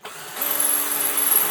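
Metal being drilled with a 4mm carbide bit on a Triumph chopper fabrication build: a steady power-drill whine that ramps up after a brief start and holds, close and fairly loud, with no talk.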